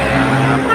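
A car rushing past close by on the MacArthur Highway beside a campus, a loud broad engine and tire roar filling the brief moment.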